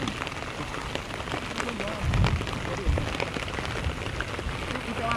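Steady rain falling on a camping site, a dense even patter with a couple of louder thuds close by midway and continuous hiss throughout.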